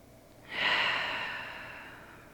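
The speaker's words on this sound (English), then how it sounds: "As we take our final breath" A single long, deep breath drawn and slowly released during a yoga pose, close and soft, swelling quickly then fading gradually with no talking.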